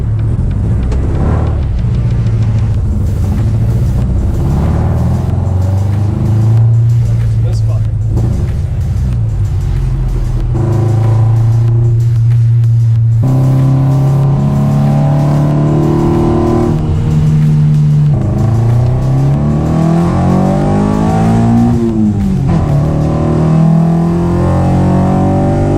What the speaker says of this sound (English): you may have heard that the car had a bit of a funny sound. Turns out it had a misfire